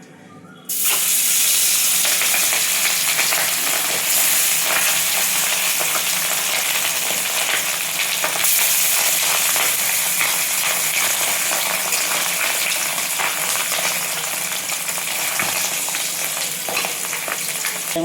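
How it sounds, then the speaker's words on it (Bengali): Fesa fish, small anchovies, frying in hot oil in a kadai, a steady loud sizzle that starts abruptly and runs continuously with bubbling crackle throughout, no voices. "মাছটা ভাজা হতে হতে আমি পেঁয়াজটা কেটে নেব।"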